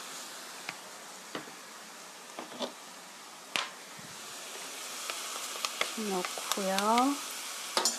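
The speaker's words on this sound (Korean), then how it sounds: "볶아주세요. 이렇게 스티어프라잉 볶아주세요." Burdock root stir-fried with tomato ketchup in a pan gives a soft, steady sizzle broken by scattered sharp crackles and pops, fairly quiet, while a voice speaks now and then.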